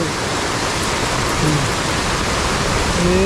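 Heavy downpour and rushing floodwater in Konkan, a loud continuous roar of rain and flowing water, close and dense, with a faint voice underneath.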